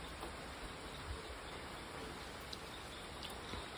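Rain falls steadily outdoors during a night of filming, a dense, even hiss of drops with no pauses, heard alone and fairly close, with occasional faint patters standing out.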